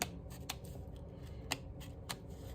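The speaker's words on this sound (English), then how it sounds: "No, I'm going to cut it out because I'm going to lift it up a little bit." Scissors snip through a printed paper candy wrapper, a few sharp close cuts spaced about half a second apart over a low steady background, with no talking.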